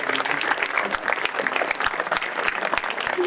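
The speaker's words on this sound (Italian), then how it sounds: "farei un grandissimo applauso a Alberto." An audience applauds at a concert season event, with dense and lively clapping, loud and close, keeping a steady pace throughout the short stretch.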